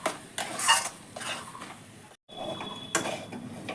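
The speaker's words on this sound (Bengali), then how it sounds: "তো এটাকে আমি সুন্দর করে এখন একটু নেড়ে ভেজে নিচ্ছি।" Spoon scraping and stirring a soybean and dal filling in a pan, with soft clinks and a faint sizzle in bursts, pausing briefly midway.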